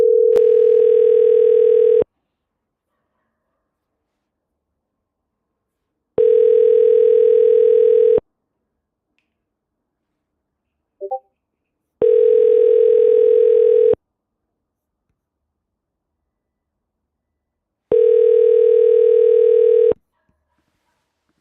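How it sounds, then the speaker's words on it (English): A telephone call ringing out, with four steady ringback tones about two seconds long, each followed by about four seconds of silence. The tones are clear and loud, with no one talking. "I'm going to give this guy a call."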